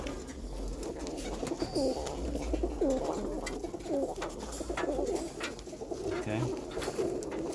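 Pigeons coo in a steady series of soft, rounded calls close by, with a low rumbling background and a voice briefly speaking over them.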